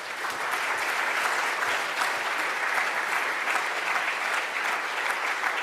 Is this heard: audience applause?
yes